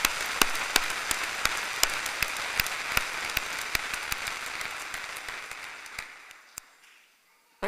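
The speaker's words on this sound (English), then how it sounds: "Okay, some applause to the graduates." An audience at a University of London graduation ceremony claps for the graduates: a thin, even patter of applause that gradually fades away to silence.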